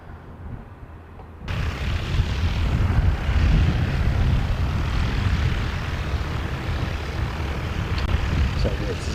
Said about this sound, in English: So that's ZKOAB, and that's an A320.